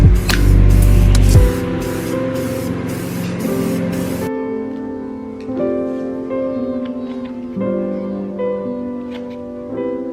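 Krylon 2-in-1 primer sprays onto a 3D-printed helmet in short hissing bursts at the start, followed by a long stretch of steady, tonal background hum at close range.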